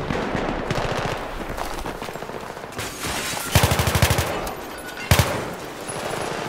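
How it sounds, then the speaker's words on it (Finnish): Gunfire in a multiplayer shooter video game, loud rapid automatic bursts and scattered shots, some close and some farther off, over a constant busy background. "mua ammutaan takaan päin."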